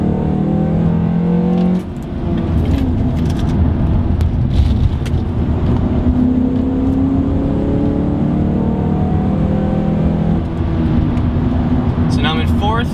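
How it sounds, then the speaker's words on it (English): A car engine blips and revs through repeated heel-toe downshifts, the pitch jumping up and settling as gears drop, loud and close with steady road rumble underneath while someone talks throughout. "So now I'm in fourth. Going to third, just like that. Going to second, and just like that, that is how you guys heel toe."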